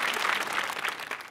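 A studio audience at a comedy show claps in a dense, sustained burst of applause that stays loud throughout.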